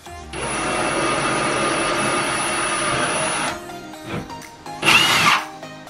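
A power drill whines steadily into a home wall for about three seconds, then stops, followed by brief clattering and a short sharp burst of noise.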